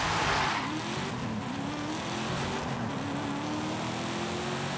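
A heavy Chevrolet ZR2 truck engine in Forza Horizon 5, revving up with a steadily rising pitch under a loud, noisy roar, with no talk.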